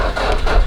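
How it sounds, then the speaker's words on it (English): Toyota MR2 SW20 engine turning over and catching immediately, a short, loud, steady mechanical rumble close to the microphone with no talking. "Starts up straight away, and it's a Toyota."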